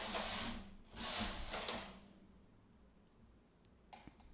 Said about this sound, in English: put the needle back in action and knit however many rows I want